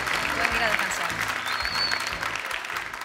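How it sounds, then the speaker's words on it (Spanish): An audience at a singing competition gala applauds the singers Tania and Arelis with steady, dense clapping throughout, while a presenter's voice speaks over it. "Un aplauso una vez más para Tania y para Arelis."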